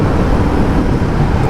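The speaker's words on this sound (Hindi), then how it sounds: "ट्रैफिक में फंस गए क्या अब हम?" Road traffic heard from a moving motorcycle, a loud, constant roar of wind and engine noise with passing vehicles close by, no voices.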